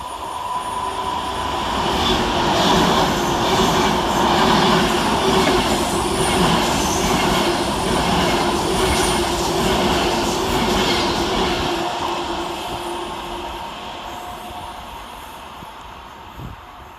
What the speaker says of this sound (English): Next for Avanti West Coast is 390-151, working 9 Papa 65 from London Euston to Preston.